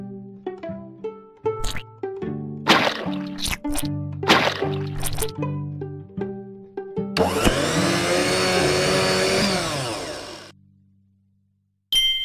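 A blender whirs in a children's math game, a steady rush of noise lasting about three seconds that follows a run of bright musical notes and chimes.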